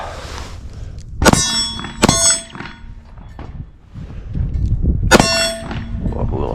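Shots from a Smith & Wesson CSX 19-ounce carry pistol strike a metal target at a range, producing three loud, sharp metallic clangs, each with a long ringing tail, spaced a second or more apart.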